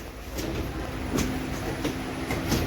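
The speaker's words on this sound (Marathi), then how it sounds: "तर आपण ट्रेनमध्ये बसलेलो आहोत." Inside a passenger train running from Beed to Ahmednagar, a steady low rumble and rattle of the carriage fills the space, with periodic rhythmic wheel clacks on the rails.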